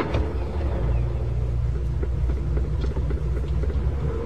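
A car pulls away, its engine a steady low rumble that holds at close range throughout with no voices.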